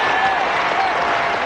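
A crowd of more than 3,000 people on their feet applauding and cheering President Clinton, a dense, steady roar of clapping and voices filling the whole stretch without a break.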